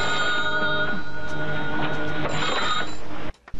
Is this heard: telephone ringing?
yes